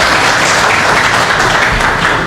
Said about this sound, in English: So a round of applause to the fraternity,